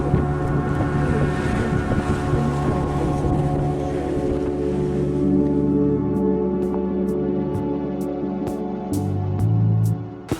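Steady wind rushes and roars around a sailing boat off Kingstown, St. Vincent in the Caribbean, a broad continuous blast with a low hum beneath, easing slightly near the end as a few faint ticks and clicks come through.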